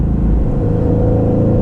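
A 2020 Aston Martin Vantage with an AMG V8 in sport mode, a loud, deep rumbling exhaust note heard from inside the car while driving, steady and low-pitched with no talking.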